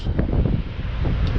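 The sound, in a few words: wind blowing outdoors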